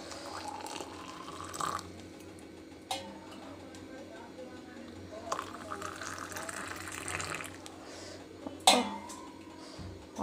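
Hot water is poured onto green tea leaves in a home kitchen, a quiet trickle punctuated by clinks of dishes and cutlery against low background hum.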